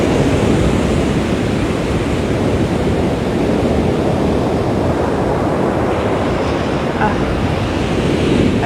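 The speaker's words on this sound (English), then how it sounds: "Here comes the ocean." Rough ocean surf breaking on the beach at Tavira, a continuous loud wash of waves with wind buffeting the microphone, with no speech.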